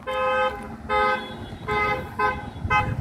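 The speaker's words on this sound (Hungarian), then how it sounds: "ott jön autó, esküvői autó" Wedding car near a bus stop sounds repeated horn honks, four distinct toots in an uneven rhythm, loud and close, with no talking.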